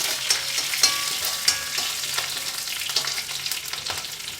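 Curry leaves and green chillies sautéing in a pan for a soya chunks roast, a steady close sizzle broken by sharp crackles and pops with occasional stirring scrapes.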